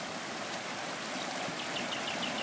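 Water flows steadily through a diverted curve of the Puray River beside a damaged wall, a continuous broadband rushing with no pauses and no talk.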